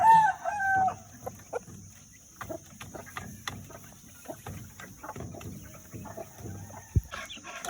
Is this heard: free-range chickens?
yes